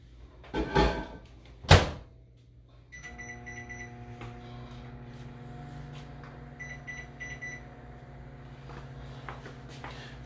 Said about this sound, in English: We're gonna put this in the microwave for like 4 minutes.